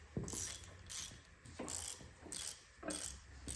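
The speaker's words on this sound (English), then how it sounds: "Go ahead and try and crack these head bolts by hand first" A hand ratchet works on the head bolts of an AMC 304 V8 from a '77 Jeep CJ7, giving several bursts of quick clicking pawl strokes in a loose rhythm, close up and with no speech.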